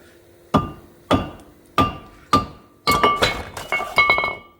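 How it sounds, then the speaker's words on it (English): Sharp metallic taps from a dead blow hammer on a rusted Fiat front brake part strike at a steady pace, four evenly spaced, then a quicker cluster of ringing hits, close and loud. "just use like a dead blow hammer, and then just tap around until it pops off"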